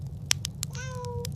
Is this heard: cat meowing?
yes